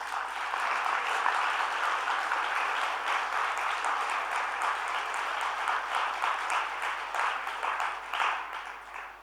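An audience claps together at a spiritual yoga lecture, a dense, sustained round of applause that holds steady for several seconds and then begins to thin out toward the end.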